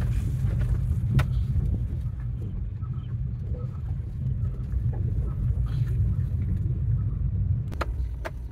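A car engine drones steadily while driving, a low continuous rumble with faint road noise throughout and no talk.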